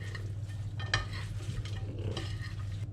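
Sliced fennel being mixed with pine nuts, oregano and olive oil in a dish, producing close, soft scraping and rustling with a single small clink, with no talk.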